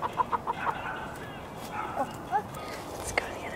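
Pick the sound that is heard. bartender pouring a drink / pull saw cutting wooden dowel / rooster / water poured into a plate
rooster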